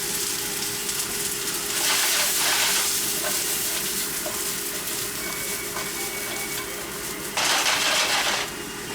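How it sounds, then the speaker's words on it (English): Onions and celery sauté in a pan for beef short ribs, giving a steady broadband sizzle and hiss throughout, with louder bursts of frying, no talking. "I'm going to develop some color here, a little bit of brown. I've got my onions inside here now."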